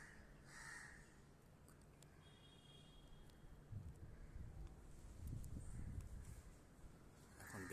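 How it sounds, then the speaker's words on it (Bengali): Crows caw at dawn in a still, quiet setting, a few distant calls scattered over faint wind and rustling, very soft overall. "শুধু কাকের ডাক"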